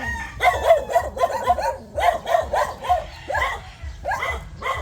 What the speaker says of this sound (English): And dogs, of course.